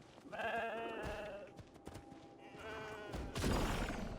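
A goat in the video game Genshin Impact gives two drawn-out, wavering bleats, close and clear, separated by a brief pause, with soft game noises around them and no talking.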